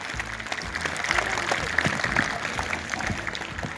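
A crowd claps together in a sustained, steady round of applause at a school World Cancer Day event, fairly close, with no talking over it.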